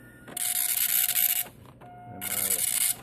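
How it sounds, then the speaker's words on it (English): A printer hooked up to a Commodore 64 prints pages of a family history book, giving two loud bursts of rapid mechanical buzzing and ratcheting with a brief pause between them. "So we hooked this printer up here."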